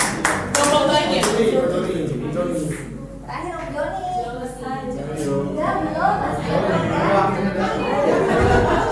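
Group hand clapping at a church congregational song-leader training, scattered claps mixed with chatter and light laughter from the people in the room, with talking over it throughout.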